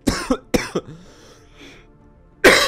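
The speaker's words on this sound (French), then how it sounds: "j'ai envie de tousser" A few sharp coughs in quick succession, then a short quiet pause before another harsh cough at the end.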